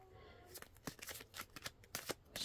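Playing cards are shuffled up close in a quiet room, a quick run of crisp riffling flutters and snaps over about two seconds, fairly soft overall.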